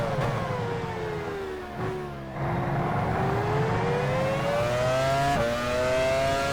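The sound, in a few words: racing car engine in a video game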